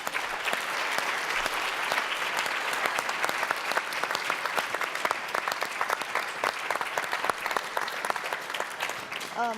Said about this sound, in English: If folks can just give our lovely panelists a round of applause.